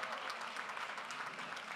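A short burst of full, even clapping from the audience at a community college graduation ceremony, loud and continuous throughout.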